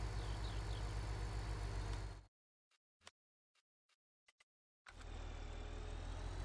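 Tractor engine in Farming Simulator 19 running at a steady, loud drone, cut off briefly by a silent gap with a few faint ticks before the engine hum resumes.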